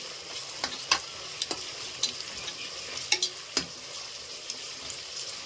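Green peas and seeds frying in a little oil give off a soft, steady sizzle, punctuated by repeated spoon scrapes and taps against the pan at irregular intervals.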